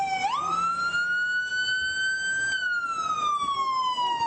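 A police car siren wails close by in body cam footage, one steady rising tone that holds, then slowly falls, loud and clear with no talking over it.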